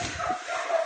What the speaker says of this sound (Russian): Какая-то странная собачка.